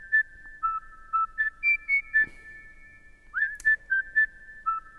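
Clear, tuneful whistling: a string of short, bright notes with brief gaps, moving between a couple of pitches, up close with no talking.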